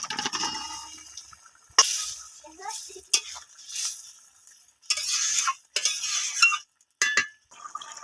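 Potatoes added to a frying pan with prawns and young jackfruit and stirred, bursts of sizzling and clattering that start and stop between short quiet gaps, heard up close.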